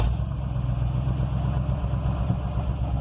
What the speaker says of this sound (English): And this is a cold start because I haven't cranked it.